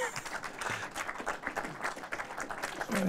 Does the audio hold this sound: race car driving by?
no